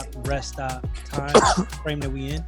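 A single sharp cough breaks into close, loud speech midway, with talking before and after it.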